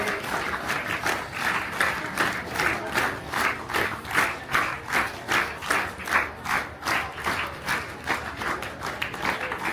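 A crowd at a district-level youth panchayat event claps in unison, with rhythmic rising and falling waves of synchronized clapping that continue loudly throughout.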